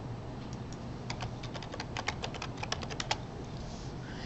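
Rapid clicking of a computer keyboard as someone types a search, a steady run of crisp keystrokes over a low room hum, close and moderately quiet, with no voices.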